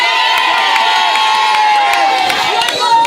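Women in an audience cheering and shouting together, a loud, dense burst of excited voices with scattered whoops and claps, held steady for a few seconds.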